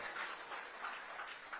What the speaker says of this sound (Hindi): जरा जोरदार ताली वाली बजा करके अपना अभिनंदन और आशीर्वाद दे